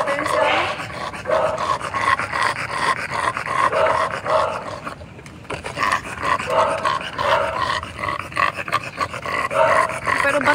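A muscular dog pants heavily in rapid, rhythmic breaths close to the microphone, continuing nearly throughout with a brief pause midway, while people talk around it.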